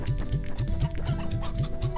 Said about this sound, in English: Got a lot of chickens going in there.